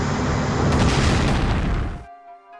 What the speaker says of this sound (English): One more bombardment hit by the New Jersey